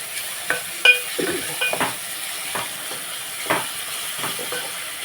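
Tomatoes and broad beans sizzle and fry in a pan for a curry, with scattered stirring scrapes and soft crackles over a steady low hiss, close and alone with no talking.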